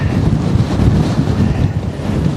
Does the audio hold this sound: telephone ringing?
no